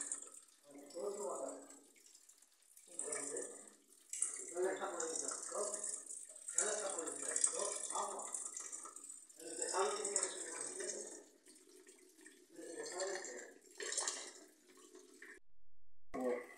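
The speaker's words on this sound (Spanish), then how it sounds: "Mira, cómo cae el agua." Water pouring and leaking through a hole in the roof of a damaged house in Albacete, a steady hissing rush that runs throughout while people talk over it.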